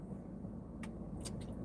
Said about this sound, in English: Car's pulling up behind me.